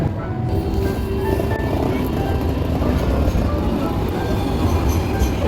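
Rumbling tram noise on rails in Australia, with rattling and low grinding, steady and close, filling the whole stretch; no clear speech.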